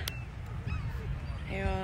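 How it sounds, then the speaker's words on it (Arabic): Seagulls calling at Miami Beach at sunset: a few brief, harsh honking cries over steady seaside wind and surf, with a voice faintly present. "هذا شو النورس صح؟ طيور النورس وسانسيت."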